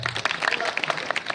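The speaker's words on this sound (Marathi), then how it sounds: "त्यांच्यासाठी एकदा 2 टाळ्या" Brief applause breaks out from an audience at a kirtan, a short scatter of hand claps mixed with crowd murmur and voices.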